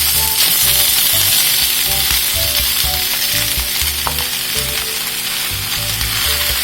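Pineapple pieces sizzle with pork chops in a hot pan, a steady loud frying hiss with occasional stirring scrapes and no talk.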